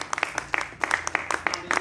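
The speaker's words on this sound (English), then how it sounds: "Come on, clap your hands for Jesus." Church congregation clapping hands during a Sunday morning worship service, a scattered run of sharp individual claps in an uneven rhythm, close and distinct, with voices mixed in.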